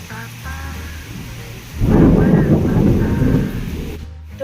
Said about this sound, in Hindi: आप बादल गरजने की आवाज़ तो सुन ही सकते हो। बाहर बहुत तेज़ बारिश हो रही है